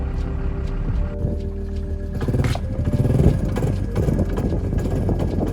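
A small engine, likely a snowmobile, with fouled plugs and a weak spark from a dead battery, sputters and runs unevenly, loud and close, with irregular surging throughout.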